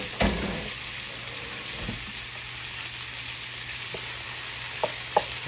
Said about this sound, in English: Get them to brown up in there, y'all.